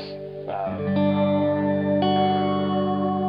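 An electric guitar rings out through a Strymon Timeline delay pedal with shimmering modulation, sustained chords repeating and swirling with echoing trails.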